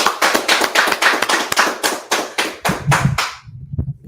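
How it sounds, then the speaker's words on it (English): A small group at a Wednesday night scripture study in Washington DC claps in sharp, distinct, close hand claps that loosen in rhythm and trail off to a few scattered claps and quiet shuffling. "let's clap it up."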